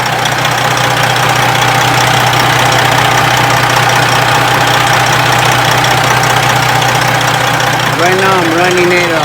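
A Freightliner truck engine idles loud and close in a steady, even rumble after its coolant reservoir has been replaced, and a voice comes in briefly near the end.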